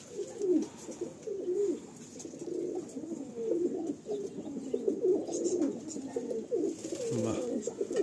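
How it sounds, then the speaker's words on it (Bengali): Breeding-pair eye pigeons, four birds together, coo in low, throaty, rolling calls that overlap almost without pause, close and fairly loud. "এই 4টে পায়রা"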